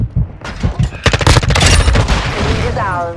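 Rapid bursts of automatic gunfire and sharp shots in the video game Call of Duty: Modern Warfare II, loud and close, crackling in dense volleys with a few fainter voices in the mix.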